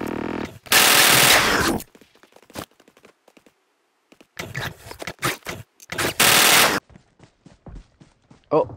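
Enemy gunfire in the mobile shooter Metro Royale: loud bursts of rapid shots in two main volleys separated by quieter gaps with scattered single cracks and footstep-like scrapes, close and harsh.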